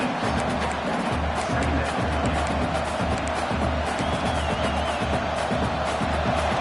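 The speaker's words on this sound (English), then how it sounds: "This crowd rising up, sensing that its defense needs some help." A stadium crowd in the College Football 26 video game cheers and roars steadily, a dense continuous wash of voices with no break.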